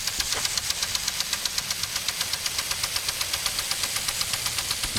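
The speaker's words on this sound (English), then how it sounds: "Got the sprinkler going." A lawn sprinkler ticks steadily in a fast, even rhythm over a broad hiss of spraying water, continuous throughout.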